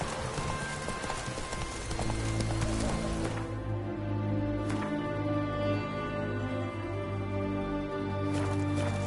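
A horse gallops in the video game Witcher 3 with a steady, rhythmic clip-clop of hooves under sustained tonal background music.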